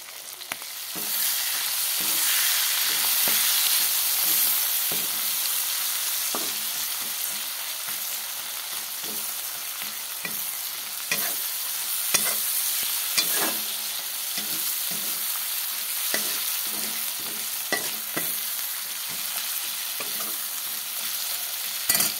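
Onions fry with dried shutki fish in a pan, a steady bright sizzle that fades slightly over time, broken by frequent scraping and tapping as a spatula stirs, close and without talk.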